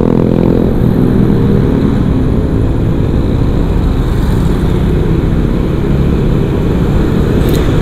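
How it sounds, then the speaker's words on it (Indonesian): Motorcycle riding slowly along Malioboro street in Yogyakarta, a loud, close, steady low engine rumble mixed with wind buffeting and street noise throughout, with no talking. "Naik motornya saya coba pelan-pelan lagi."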